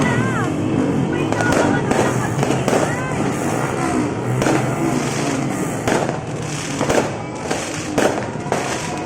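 Continuous New Year's fireworks and firecrackers crackle and pop loudly and densely from neighbouring houses, with bangs at varying distances, while voices talk underneath.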